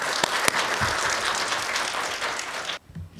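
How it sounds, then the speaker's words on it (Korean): Audience applause at a Korean corporate responsible business conduct seminar, welcoming a speaker from the UN Global Compact Korea association; steady dense clapping from a roomful of people, cutting off abruptly near the end. "큰 박수로 모시도록 하겠습니다"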